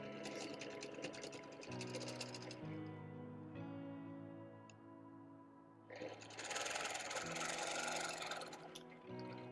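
Quilting machine stitching in the ditch along drum-patterned fabric, a rapid mechanical whir in two bursts separated by a quieter motor hum with shifting pitch.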